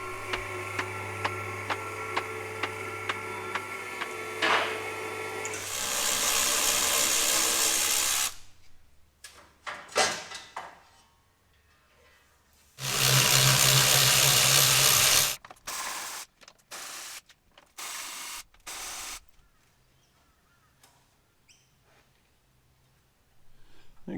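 Bursts of ratcheting and mechanical clicking, with short loud spurts of a power tool, as bash plates are removed from a Toyota Landcruiser 200 Series, separated by quiet gaps with no talk.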